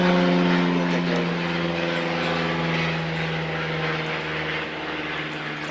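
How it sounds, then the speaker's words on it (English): A World War II-era biplane passes overhead with a loud, steady propeller-engine drone that slowly fades a little toward the end. "Kind of ironic we have a World War II plane going over about the time."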